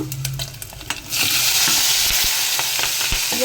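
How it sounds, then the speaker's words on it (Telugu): Dried fish pieces fry loudly in hot oil, a dense continuous sizzle that swells after the first second, with a few scrapes of stirring and no talking. "ఈ ముక్కలు అనేది ఎర్రగా వేగాలి ఫ్రెండ్స్ ఆయిల్లో వేయించుకుందాము"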